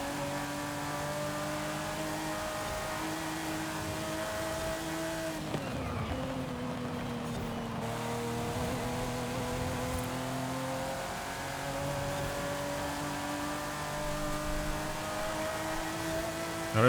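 A drag car engine in the video game Forza Horizon 5 holds a steady, droning rev, dips briefly and climbs back, sustained and loud with no voices.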